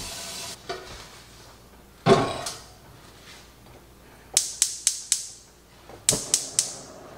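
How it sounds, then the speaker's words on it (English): Ears of corn being shucked by hand, sharp tearing and snapping of husks in quick bursts of three or four, separated by quieter pauses, close and fairly crisp with no voices. "I'm out here shucking still."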